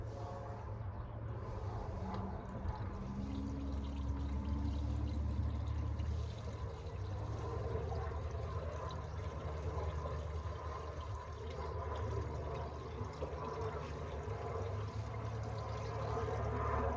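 Water is poured into the cooling system of a 1986 Ford F150 during a coolant flush, a continuous low gurgling fill with trickling and splashing that runs steadily for many seconds at moderate volume.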